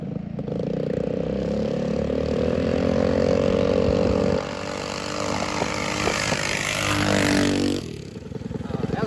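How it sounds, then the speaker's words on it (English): Mini bike engines roar loud and steady side by side in a short drag race, revving hard with a rattling clatter before easing off near the end. "That was a drag race right there."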